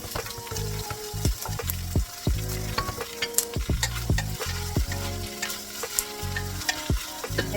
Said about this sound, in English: for my purple peas, I have my onion, bell pepper, and garlic. And so right now, it is just all sauteing.